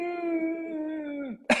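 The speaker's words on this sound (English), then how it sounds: "You get a cough when you do Ujjayi Pranayama." A long sustained voiced tone slides down and breaks off, followed by one short sharp cough close up.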